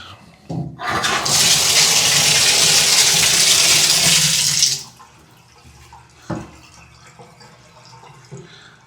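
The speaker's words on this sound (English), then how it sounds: "So you turn on the water and flip that, and you get a shower." A hotel bathtub faucet at a DoubleTree Suites gushes loudly for about four seconds, then cuts off, leaving quiet room tone and a single knock.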